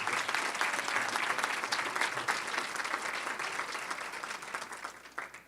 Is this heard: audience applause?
yes